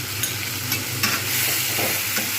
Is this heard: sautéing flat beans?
yes